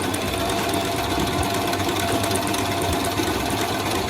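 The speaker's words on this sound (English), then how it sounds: "I sewed all the pieces together and also the edges here" Sewing machine stitching fabric pieces of a patchwork top together, a steady continuous close-up whir with rapid needle chatter that holds at an even loudness throughout, no voices.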